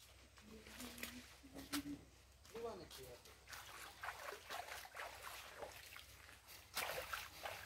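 Mountain spring water wells up and flows out from beneath the ground in Magsaysay, Mindoro, a soft, uneven trickling and sloshing heard close by while someone talks over it.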